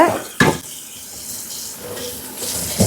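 Tap water runs over okra being washed in a sink, a steady broadband splash with a couple of louder gushes near the start and end as the pods are moved under the stream.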